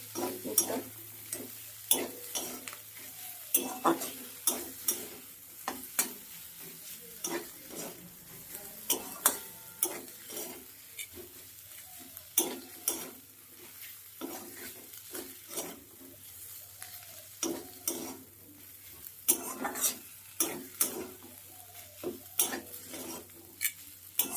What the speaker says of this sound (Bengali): এবার দেখো অনেকটাই পুরটা ভাজা ভাজা হয়ে গেছে